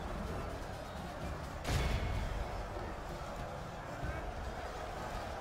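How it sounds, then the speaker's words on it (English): Catapults fire in the Third Age: Total War battle game, a heavy thud of launch and impact rising over a dense rumbling battlefield din of clashing armies. "Catapults, fire at will."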